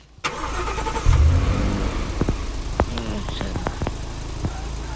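A car engine in the Roblox video game starts up, then settles into a low, steady rumble, with scattered sharp clicks and taps over it.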